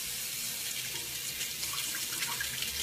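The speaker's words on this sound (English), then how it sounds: "Rinse it again, because you probably got a bunch of hair in there." A bathroom tap runs in a steady, close stream while cut hair is rinsed out of a sink, with no voices.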